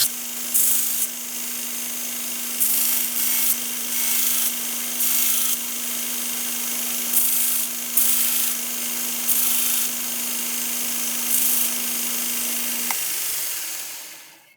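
A belt grinder with a 36 grit belt shapes the handle of a small hand-forged EDC knife, its motor humming steadily while the belt rasps against the handle in repeated short bursts, then the machine winds down.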